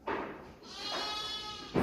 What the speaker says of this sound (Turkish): Evet kuzumuzu annesine salıyoruz.